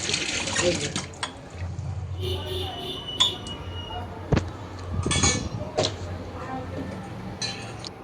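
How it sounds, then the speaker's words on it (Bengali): Tea being made: water pours and splashes, with several sharp clinks of a cup and spoon scattered through, close by, while a person talks over parts of it. "তারপর একটু চা বানিয়ে নিলাম।"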